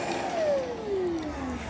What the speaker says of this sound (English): Now it's going to kick this vacuum on.